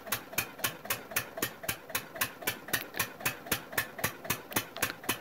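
A Lister Field Marshal 10HP diesel engine runs under load with a steady, rapid pulsing thump, each firing stroke sharp and evenly spaced, heard close up with no voices.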